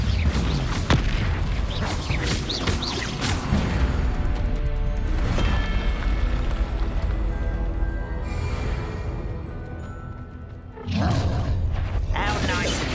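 Explosive blasting spell in a chaotic Hogwarts Legacy fight: repeated heavy booms and crashes with beastly roars pound through a dense, continuous din, with a brief dip before another loud burst near the end; voices speak over the action.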